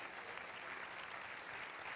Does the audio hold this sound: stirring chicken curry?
no